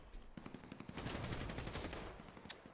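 Video game gunfire in a PvP match: rapid bursts of automatic shots crackle in quick succession, fairly loud, with a sharp louder report near the end.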